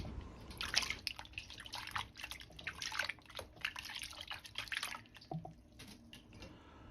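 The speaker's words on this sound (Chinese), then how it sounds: "再放入西红柿清洗" Tomatoes being washed in a basin of water, with soft splashing, sloshing and dripping sounds in irregular bursts, quiet and close, with no talking.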